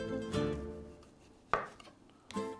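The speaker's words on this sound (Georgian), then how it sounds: "დავჭრი პამიდორს, ზუსტად იგივენერად როგორც ყაბაყი და ბადრიჯანი დავჭერი." A knife cuts through a tomato on a board in a few separate strokes, each a close, crisp thud with a brief squelch, spaced by quiet pauses.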